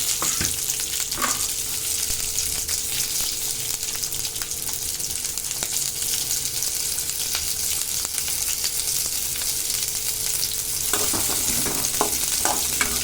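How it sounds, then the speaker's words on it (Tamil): Onions and garlic sizzling steadily in hot oil, a constant loud hiss with occasional scrapes and stirring knocks from a spatula. "இப்போ வதக்க போகிறோம்"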